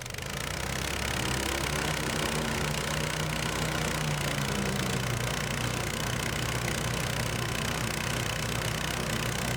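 A Tofalar Tundra snow vehicle runs its engine steadily during a tug of war against two mini sleds. The drone is loud, continuous and close, a dense mid-to-low motor roar that holds at an even level throughout.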